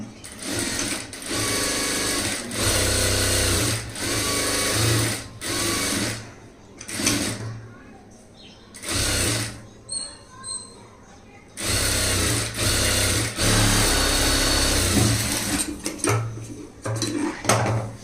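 A sewing machine stitches a blouse sleeve seam in loud, close, rapid whirring bursts that start and stop several times, with a voice speaking during the pauses.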